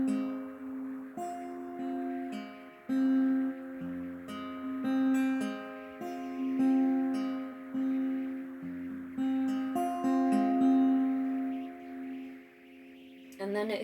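A guitar plays a repeating picked pattern of single plucked notes, clear and close, ringing over one another in a steady, gentle rhythm.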